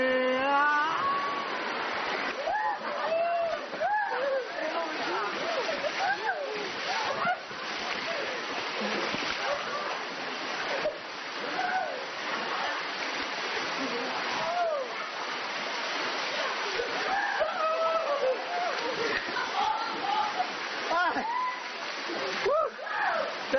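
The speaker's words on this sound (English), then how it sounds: "That's water rafting." Loud, continuous rushing and splashing water from white water rafting, churning without pause for the full length, with people talking and calling out over the roar.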